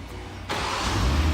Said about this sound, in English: And the car starts up for you.